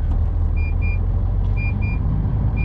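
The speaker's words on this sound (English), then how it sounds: "Excuse the beeping." Reversing beeps from a cement tanker HGV in a loading yard, steady paired electronic tones repeating over a loud, constant engine rumble heard from inside the cab.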